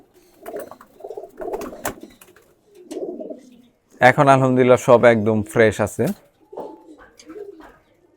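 Pigeons recovering after treatment coo in a short burst of low, rolling calls near the middle, with someone talking before and after.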